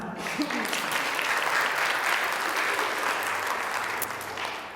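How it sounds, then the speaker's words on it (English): Audience at the Miss Indian UNM Pageant 2015 applauds the panel of judges, a dense, steady wash of many hands clapping that holds evenly throughout before easing slightly at the end. "Let's give them a round of applause."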